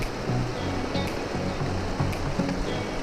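Rushing river water on the GR20 trail in Corsica, a steady broadband wash of flowing current with no clear breaks, close and fairly loud throughout.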